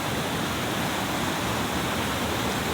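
A stream flowing at Dahilayan Saddle Ridge Camp, a loud, constant rushing of water heard up close and unbroken, with no voices.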